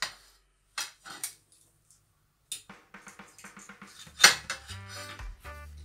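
Cutlery clinks and scrapes against a plate while someone eats golden brown homemade Swiss rösti, a quiet start followed by close, scattered taps and a sharper clatter near the end, with no talking.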